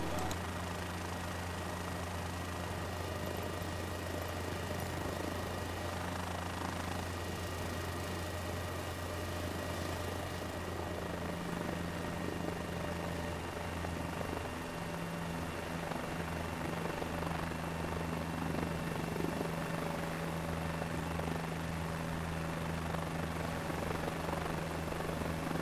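A Guimbal G2 helicopter takes off on a short flight between Caruaru and Arcoverde, its steady turbine whine and rotor drone filling the cabin continuously, with occasional voices underneath.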